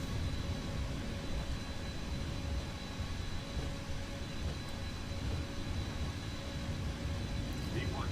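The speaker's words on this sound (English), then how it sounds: "Now the engine sounds a bit weird because it's, I think if I'm correct, it's playing 2 clips at once" Simulated Boeing 777 jet engines in X-Plane 11 roll down the runway at Heathrow, a constant dense roar with a thin high whine and low rumble, steady for the whole stretch.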